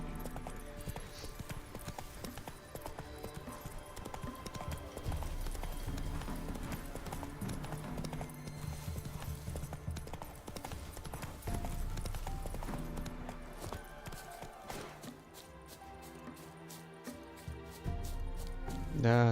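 Roach the horse galloping across Velen in The Witcher 3, a quick rhythmic clip-clop of hooves on the ground under game music, with a voice speaking at times.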